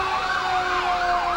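Fire engine siren from Engine 8 in a Fitchburg 4th of July parade, a steady loud wailing tone rising and falling over continuous road and crowd noise.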